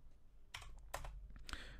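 Keystrokes on a computer keyboard while editing text in vim, a few quick bursts of clicky typing separated by short pauses, close and fairly quiet.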